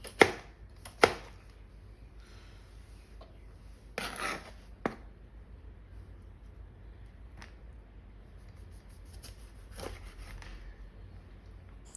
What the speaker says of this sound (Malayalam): കുറച്ച് മല്ലിയില എടുത്ത് ചെറുതായിട്ട് അരിയുന്നുണ്ട്